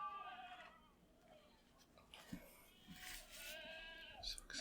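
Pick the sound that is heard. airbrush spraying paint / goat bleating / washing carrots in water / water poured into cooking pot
goat bleating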